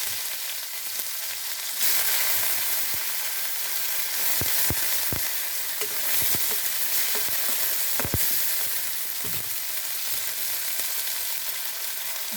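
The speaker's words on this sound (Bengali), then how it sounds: "তেল দিছি, আমি দিয়ে দিচ্ছি রাঁধুনি, দিয়ে দিলাম পুরোই" Radhuni seeds frying in hot oil in a pan for a pui shak (Malabar spinach) curry, a steady close sizzle with occasional sharp pops and stirring clicks, no talk.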